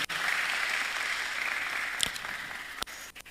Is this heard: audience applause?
yes